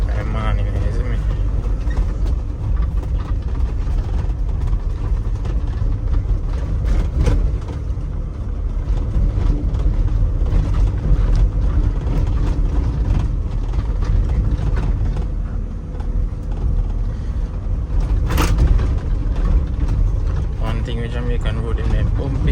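A mini dump truck rumbles along a bumpy Jamaican road, with a constant loud engine drone and rattling jolts throughout as someone talks over it.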